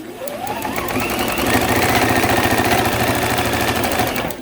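A Juki sewing machine stitches quilt patches for an autumn star block, running as a steady, loud, rapid mechanical whir with fast needle clatter that doesn't let up.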